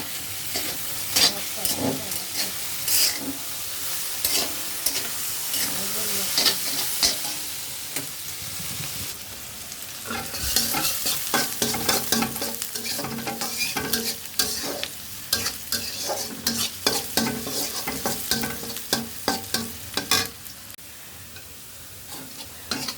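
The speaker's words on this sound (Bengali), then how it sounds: "এদিকে ঢেঁড়স ভাজিটা হয়ে যাচ্ছে।" Sliced okra fries in a pan while being stirred: a continuous sizzle with repeated scraping, clattering stirs throughout, loud and close, with no talk.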